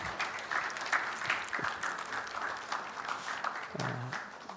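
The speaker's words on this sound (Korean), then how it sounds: "다시 한번 큰 박수로 격려해 주시기 바랍니다." Church congregation applauding during a Sunday worship service, a steady wash of clapping from a crowd that carries on throughout, with a brief low murmur near the end.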